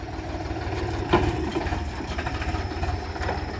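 A small Farmtrac 30 tractor engine running steadily on a farm field, a low continuous rumble with a fairly even pulsing drone and one brief louder knock early on.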